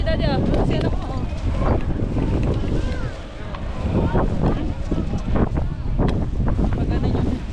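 Strong wind gusts roar continuously at a snowy ski resort in Naeba, Japan, buffeting the microphone with a loud, steady rush, while people talk over it.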